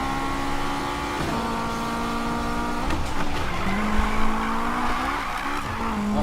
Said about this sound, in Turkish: Drift eğlenceliydi ama